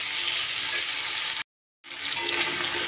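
Greens and pumpkin sizzle steadily while being stirred and fried in a pan, a close, dense hiss that cuts out briefly for a moment before resuming just as loud.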